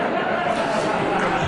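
A single voice briefly imitates a stock anime nonverbal acting cue, the 'Standard 102', as a short, close vocal grunt-like utterance.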